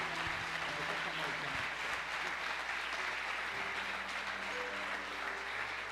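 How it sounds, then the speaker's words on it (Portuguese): Congregation applauding at a church ministerial training service, a steady dense wash of clapping throughout, with faint talk and music-like tones underneath. "Pode aplaudir com mais alegria"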